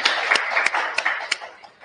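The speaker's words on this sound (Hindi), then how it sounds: "ताली बजा देने के लिए।" A small group applauds in a classroom, a dense patter of overlapping hand claps with a few sharper individual smacks standing out, fading toward the end.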